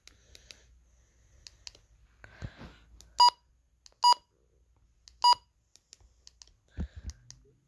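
Three sharp electronic alert beeps from an HH54 handheld radio, evenly spaced about a second apart, ring out clearly over faint clicks and handling noise.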